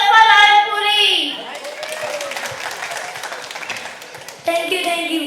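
An audience at a children's comic mushaira in Stockholm breaks into sustained clapping to welcome a young boy poet, with voices speaking before and after the applause.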